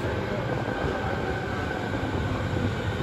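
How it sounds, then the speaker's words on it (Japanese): An Osaka Metro Sakaisuji Line subway train arrives at Nagahoribashi Station platform, rumbling steadily and loudly nearby, a dense continuous roar of wheels and motors with no voices. "The train on platform 1 is bound for 天ヶ茶屋 via 日本橋。"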